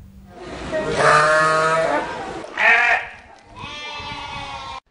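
Sacrificial sheep bleating during subdued coronavirus-era festival celebrations in Guinea: three loud, harmonic bleats in succession, the first long and wavering, the second short, the third sustained and strained, close to the microphone with no talk.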